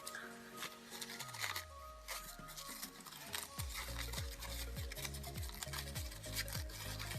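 A folded paper accordion for a handmade flower is fluffed open by hand, giving a continuous close crinkling and rustling of paper over steady background music with a pulsing bass beat.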